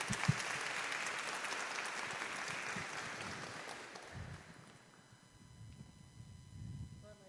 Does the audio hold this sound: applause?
yes